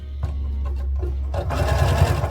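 A sewing machine stitches around a stuffed fabric bear, its steady motor whir rising into a loud, fast continuous run after a few short starts, with no talking.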